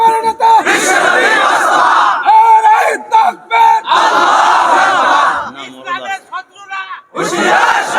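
A large crowd at an outdoor religious gathering chants a slogan in loud, rhythmic bursts, a leader's call answered by many voices in unison, with short pauses between rounds.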